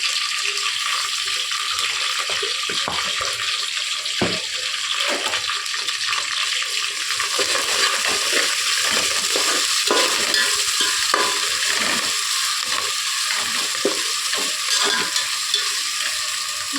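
Curry leaves and a spoonful of ginger hit very hot oil in a tempering for leftover rice, giving a loud, steady sizzle with crackling bursts and occasional stirring scrapes throughout.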